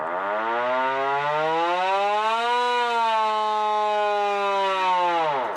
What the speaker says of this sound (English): Air raid siren. They make a hell of a noise.